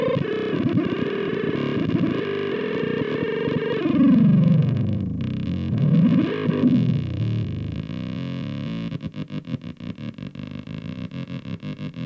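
A Metasonix R-54 tube synth module drones loudly and thick with distortion while its tuning is pulled down. The pitch sweeps and wobbles unstably, then breaks into a rapid, stuttering buzz with a steady hum underneath.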